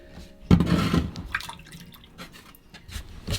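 Fresh water from a small leak drips in a boat's bilge, heard as a burst of close splashing followed by scattered, irregular drips and trickles in a quiet, enclosed space.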